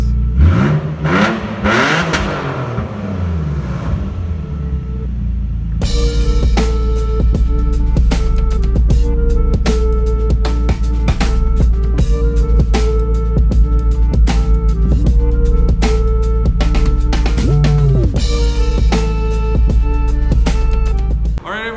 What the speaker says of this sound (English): the exhaust is just broken, but shit, still sounds nice.